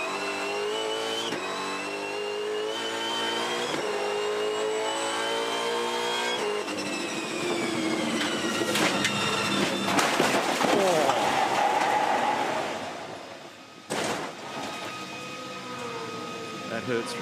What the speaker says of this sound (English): That is a serious, serious accident.